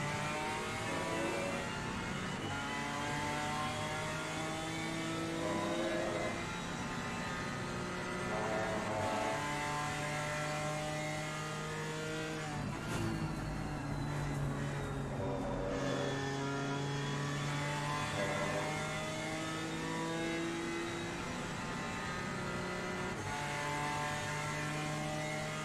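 GT4 race cars in a close battle in the Assetto Corsa Competizione racing game, engines revving up and down through the gears steadily throughout, with a brief louder burst midway and no talking.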